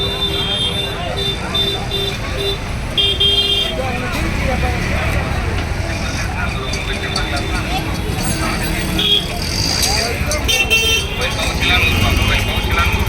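Busy road traffic at the Pallavaram Friday market, with engines rumbling and car horns tooting repeatedly nearby while people talk over the continuous street noise.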